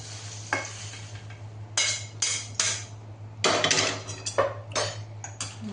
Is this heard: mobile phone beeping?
no